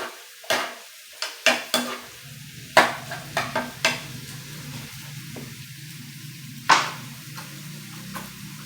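Potatoes frying in a pan, a low sizzle running beneath a series of sharp knocks and clatters from a utensil striking the pan, close and irregular.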